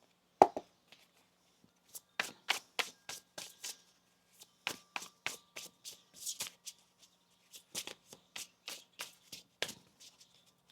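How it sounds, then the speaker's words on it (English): A deck of tarot cards is shuffled by hand in a string of quick, crisp riffling bursts separated by brief pauses, close and fairly quiet, with no speech. "One more shuffle."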